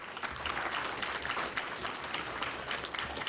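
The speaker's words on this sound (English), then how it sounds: "So I want to give them a round of applause on that," A banquet crowd claps for a varsity football coach and his staff, a soft, even patter of many hands heard from a distance and continuing steadily without pause.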